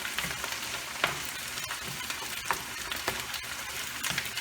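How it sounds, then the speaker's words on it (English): Meat browns in a frying pan over medium-high heat with a continuous close crackling sizzle, punctuated by several sharp scraping stirs at irregular intervals. "my meat is browning"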